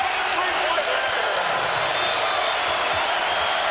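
A college basketball arena crowd at a Michigan home game against Xavier roars steadily in a loud, dense wash of cheering, with a commentator talking over it.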